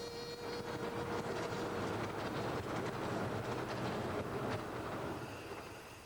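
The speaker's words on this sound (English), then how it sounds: "the locomotives, built to run safely at speeds of up to 25 miles per hour, bustle their heavy loads confidently along." Romney to Hythe miniature railway locomotive running with a heavy load, built for speeds up to 25 mph: a steady, loud rolling rumble of wheels on rail with clickety-clack and a faint squeal, fading slightly at the end.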